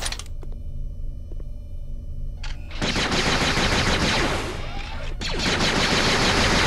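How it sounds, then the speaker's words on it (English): Gun turrets firing in the Jedi Outcast video game: dense, sustained rapid gunfire that fills the mix, preceded by sparse mechanical ticks and clicks. "there's like a crap ton of turrets here"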